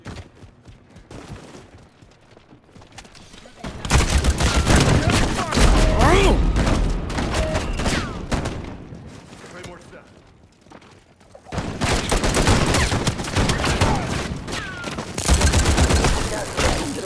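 Heavy bursts of automatic gunfire in a Modern Warfare 4 multiplayer match, loud and sustained in two long stretches separated by quieter gaps with scattered single shots.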